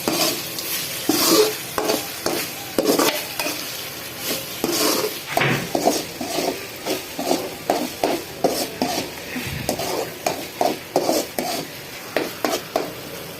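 Raw mango chutney made with fresh turmeric, stir-fried in a pan with a spoon, a low sizzle under a long run of rhythmic scraping and clattering strokes against the metal, close and busy, without speech.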